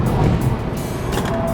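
An Audi A3 thrown hard into a corner on a race track, its engine droning loud and steady up close, with a brief rise in higher-pitched noise late in the turn.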